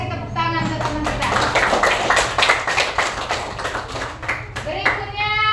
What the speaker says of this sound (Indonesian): kita kasih tepuk tangan untuk teman kita